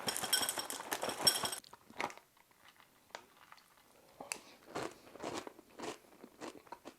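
Someone tastes Kaws cereal with marshmallows. A loud, close crunch opens the bite, then quieter chewing and a few soft clinks follow in scattered bursts against near silence.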